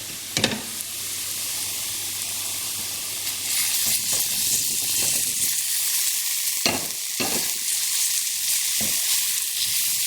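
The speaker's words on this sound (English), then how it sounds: "We can add the first batch of our vegetables. We're going to start with the aubergines and the potatoes" Aubergines and potatoes drop into hot spices in a pan for a Bangladeshi vegetable curry, setting off a steady close sizzle and hiss with a few sharp clatters of stirring.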